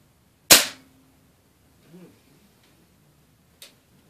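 A single sharp crack from a pellet rifle firing a Daisy .22 wadcutter pellet, loud and close, followed by a faint thud and a small tick as the pellet strikes the target.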